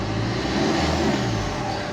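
A car engine revving to two or three thousand RPM during testing after a barometric pressure sensor change, a loud, close, steady roar that rises and falls slightly, alone without talk.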